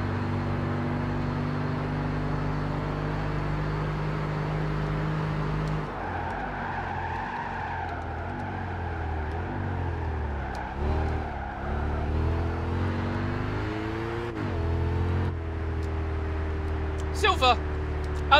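A Lexus race car in Gran Turismo 5 drones through the track, its engine pitch falling under braking with tire squeal and skidding, then climbing again as it accelerates; someone talks over it.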